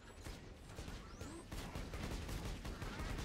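Sustained automatic turret fire in the video game Borderlands 2, a dense continuous rattle of shots with a brief whooshing effect, loud and unbroken throughout.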